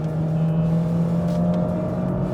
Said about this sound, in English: now I'm driving the A45 AMG, the hottest hatch of them all